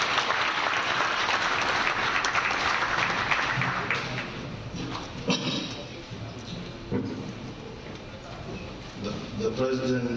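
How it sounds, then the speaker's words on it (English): Sustained audience applause fills a conference hall, loud and dense at first, then thinning out and fading into scattered clapping and murmurs, with a voice over it. "A round of applause as we receive it."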